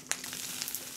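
Cut-up wapato frying in hot oil with prickly ash in a pan, a steady close sizzle with faint crackles throughout.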